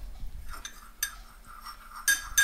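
Homemade natural lip balm being stirred in a small jar, a utensil clinking and tapping against the container in a few sharp, close strikes spaced irregularly over near silence.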